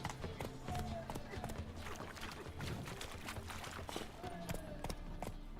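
Roach the horse galloping in The Witcher 3, hoofbeats running faint under game music and ambient sound at low level, with a voice speaking briefly.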